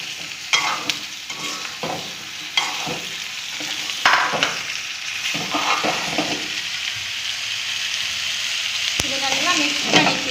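Mango pieces land in a pan of sautéed onions and are stirred, giving a loud close sizzle with repeated spatula scrapes and clatters.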